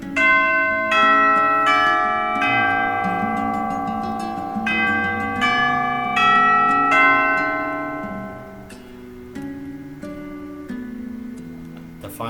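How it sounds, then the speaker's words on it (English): A loud ringing bell marks the end of a school day, its bright tolling strikes repeating steadily and sustaining long ringing tones that slowly fade toward the end. "The final bell rings, signaling the end of the school day."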